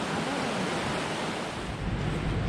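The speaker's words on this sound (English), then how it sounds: "So we're just walking up to the base of the waterfall at the moment." The waterfall at Murray Falls rushes in a dense, continuous roar of white water, steady and fairly close, with a touch of wind buffeting and no voices.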